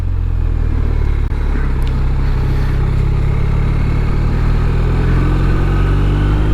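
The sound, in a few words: BMW R1250 RT motorcycle 1250cc shift cam engine riding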